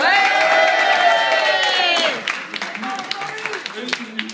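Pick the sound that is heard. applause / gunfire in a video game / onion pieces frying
applause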